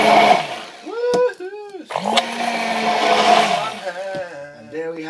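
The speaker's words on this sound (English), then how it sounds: "get some of this hand blender action and blend it all up." A hand blender whirs close up as it blends a quick bodybuilding dessert mixture. The motor whines in short bursts, and its pitch rises and falls as it speeds up and bogs down in the mix.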